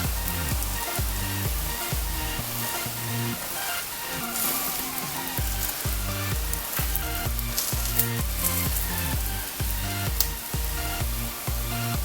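An onion pancake fries in oil in a pan with a steady, crackling sizzle, punctuated by regular soft knocks and stirring or scraping sounds at a medium distance.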